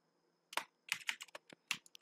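Keystrokes on a computer keyboard while code is written, a quick irregular burst of crisp clicks after a brief quiet start, close and clear with no talking.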